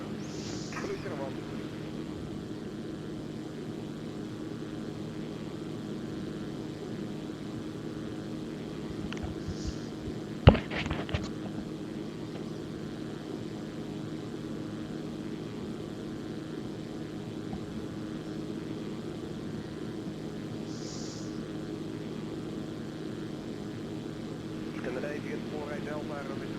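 Zlin Z-142 propeller aircraft taking off in the X-Plane video game: a steady, droning engine and propeller hum with a constant tone runs throughout, briefly interrupted by a sharp click, with faint radio chatter in places.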